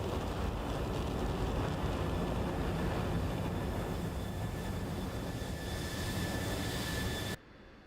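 Steady broadband jet roar of an F-16 Viper in the DCS flight simulator, loud and continuous with a faint high whine, carrying light fuel and captive A9s during touch-and-go landings, cutting off abruptly near the end.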